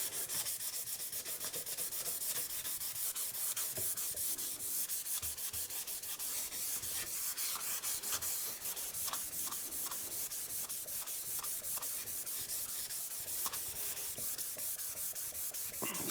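Guitar frets are rubbed with fine 800-grit sandpaper during a fret installation. A continuous close hiss of abrasion with a steady back-and-forth scrubbing rhythm runs for the whole stretch, with no speech.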